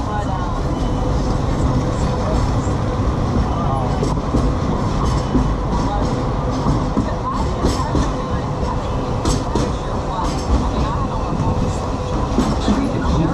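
Walt Disney World Railway train rolling steadily along its tracks, a loud continuous rumble with clickety-clack and wheel noise throughout, while recorded announcements play over it.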